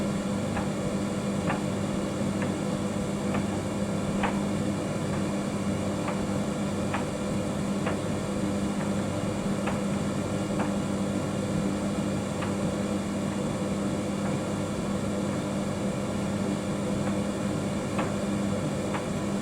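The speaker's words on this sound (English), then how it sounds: "So that's why we just thought we'd put the dryer back on anyway" A Bosch Serie 4 tumble dryer hums and rumbles steadily, drying damp dressing gowns, with faint regular clicks as the drum turns, continuous and unchanging throughout.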